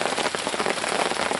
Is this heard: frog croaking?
no